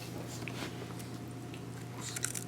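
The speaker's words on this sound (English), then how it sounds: "I hear you crunching." A baby biting and chewing crunchy food up close, soft wet crunches and mouth sounds over a steady low background hum.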